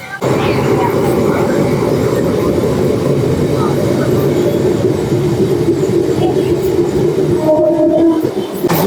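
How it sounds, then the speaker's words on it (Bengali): A Barddhaman–Asansol MEMU passenger train leaving Durgapur, India, rumbles steadily along the tracks, a loud continuous roar with faint rattling and a brief high squeal near the end. "এখন আমাদের ট্রেন দুর্গাপুর ছেড়ে বেরিয়ে যাচ্ছে"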